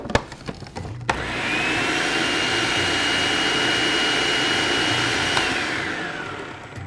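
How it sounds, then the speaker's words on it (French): A food processor whirs loudly as it blends fresh herbs into a dressing, starting after a few clicks and knocks, holding a steady high roar, then winding down at the end. "Je vais partir le robot pour bien mélanger tout ça."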